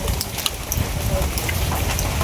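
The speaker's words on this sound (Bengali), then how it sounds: "আরে বৃষ্টি আইতাছে অনেক" Heavy rain pours down steadily in a dense, even hiss of drops, loud and close, with no letup.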